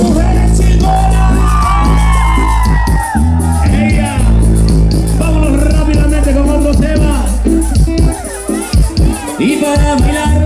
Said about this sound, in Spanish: Y el grito de las mujeres chingonas.